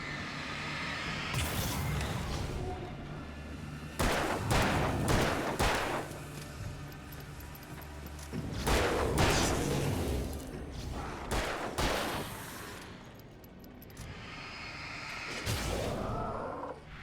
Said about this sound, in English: I want to shoot the barrel.